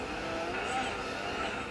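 Rally car in the Dirt 4 racing game steering hard with steady engine drone and tire skid noise, continuous and fairly loud throughout.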